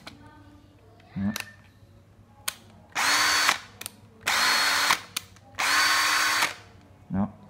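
A Makita DDF453 cordless drill whirs in three sustained bursts of about half a second to a second each, framed by short blips and clicks, close and loud, with brief talk around the runs.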